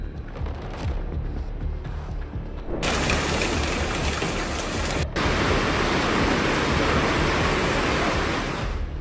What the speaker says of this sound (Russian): осадки начались с сильного дождя, перешедшего в град размером до 4 см в диаметре